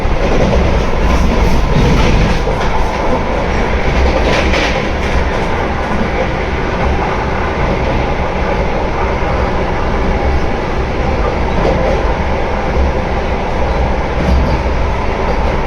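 A Mumbai–Shirdi Vande Bharat express train rumbles steadily along the tracks near Niphad station, loud and close, with a continuous roar and faint clickety-clack throughout.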